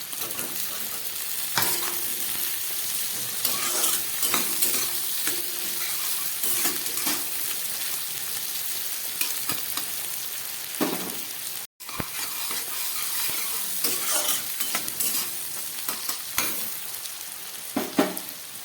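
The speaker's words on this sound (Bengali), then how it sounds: "এবার দিয়ে দিচ্ছি ক্যাপসিকাম আর টমেটো" Capsicum and tomato frying in oil with browned onion, stirred in a pan for a light home-style curry; steady sizzling throughout with repeated scraping stir strokes, close and fairly loud, with one brief dropout midway.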